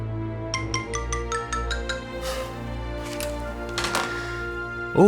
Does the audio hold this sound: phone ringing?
yes